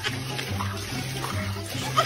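Water pours and splashes continuously in a short, fairly loud burst, with a gurgling low rush and a small splatter near the end.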